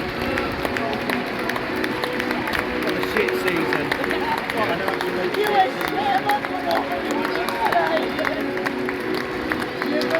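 Sparse applause and scattered cheers from a thinning football crowd at full time as Doncaster Rovers beat Colchester United 1-0, a steady crowd murmur running throughout, with someone talking near the microphone.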